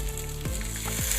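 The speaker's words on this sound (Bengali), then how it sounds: "এবার দিয়ে দেবো অল্প পরিমাণে জল" A splash of water goes into a hot pan of moringa drumsticks and potatoes for a village-style vegetarian poppy-seed dish, bringing a brief, quiet sizzle close by.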